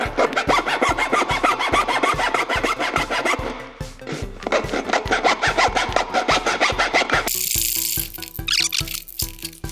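A car tire is sawed through by hand, a steady back-and-forth rasping with regular strokes that continues close and loud, shifting to a harsher, brighter scraping near the end.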